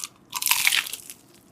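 One crisp, close crunchy bite into fried tofu stuffed with spicy smashed chicken (ayam geprek), a short burst of crackling that fades quickly.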